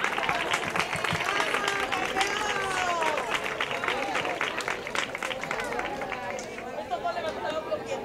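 Sustained applause from a large crowd, dense and continuous, with voices calling out and chattering all through it.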